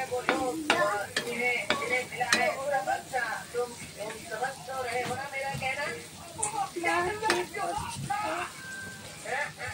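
Spiced masala fries in oil with a busy sizzle as a spoon stirs and scrapes through it, while a voice talks over the cooking.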